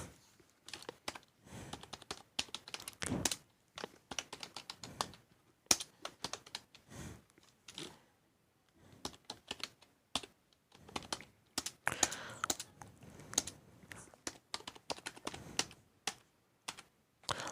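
Typing on a computer keyboard while entering an address into Tally accounting software, with bursts of quick close keystrokes separated by short pauses, no speech.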